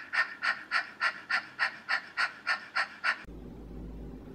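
Rapid rhythmic panting of Kundalini yoga breath of fire, about ten sharp, evenly spaced breaths close and loud, then cut off into a low steady hum.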